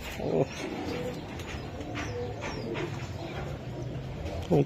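Low, soft cooing of racing pigeons at a pigeon farm in the background, repeated and fairly faint, with a broad ambient hum and a couple of brief louder noises.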